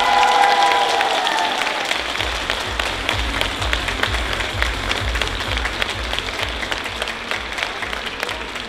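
A choir-contest audience applauds a Grand Prix announcement: a thick, close burst of clapping that starts loud and keeps a steady, slightly rhythmic patter throughout, with a brief tonal sound fading at the very start and no speech.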